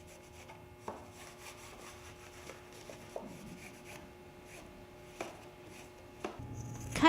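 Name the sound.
cleaning winglet inside surfaces and doublers with acetone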